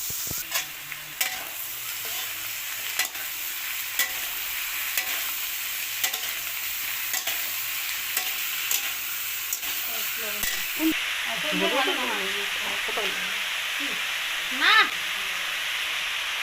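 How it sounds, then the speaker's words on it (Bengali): Ridge gourd, potato and jackfruit seeds frying in oil, a steady close sizzle with frequent stirring scrapes, and a brief voice near the end. "এখানে তেল দিছি, আলু দিছি, কাঁঠালের বীজ দিছি, এখন ঝিঙে দিব।"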